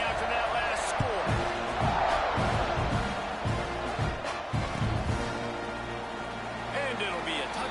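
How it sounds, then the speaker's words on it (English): A stadium crowd buzzing at a Texas A&M vs Notre Dame football game, a steady distant murmur and roar under a commentator's voice, with scattered thumps and claps. "this crowd is buzzing after that last score"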